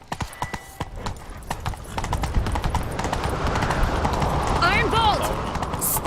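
Hooves of a galloping horse in a fantasy video game drum in a steady, fast clip-clop that builds and holds, close and loud, with game sounds mixed in.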